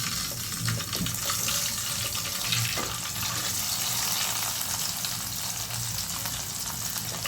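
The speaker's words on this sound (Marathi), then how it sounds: "लसूण छान फ्राय करून घ्यायचं." Garlic fries in hot oil for a crunchy corn chivda, a continuous close hiss and sizzle with faint crackling, steady in level throughout.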